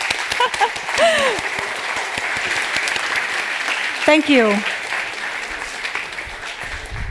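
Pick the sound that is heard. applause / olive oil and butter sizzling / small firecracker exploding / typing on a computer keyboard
applause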